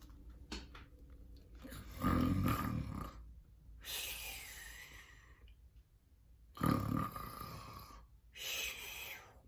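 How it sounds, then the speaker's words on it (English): Deep, rasping snores come in slow, uneven bursts with quiet gaps between, loud and close. "soon the giant began to snore"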